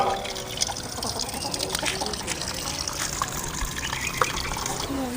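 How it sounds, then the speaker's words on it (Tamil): Water pours and trickles steadily into a cooking pot while greens and dal are being cooked, a continuous close splashing stream heard on its own. "தண்ணி அடிச்சுக்கலாம்."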